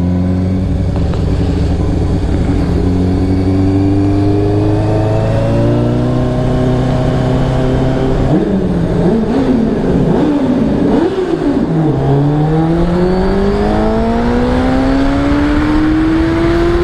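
Audi A8 engine revving inside a tunnel, a deep rising and falling drone with sharp throttle blips in the middle, then a long climbing rev, loud and echoing, with no talking.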